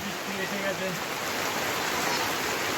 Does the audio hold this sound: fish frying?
no